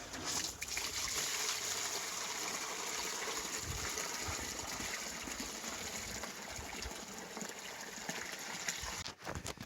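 Water rushes and sloshes continuously inside a rusty Holden HQ-WB steel fuel tank as it is flushed clean, a steady close gushing and trickling with a brief knock near the end.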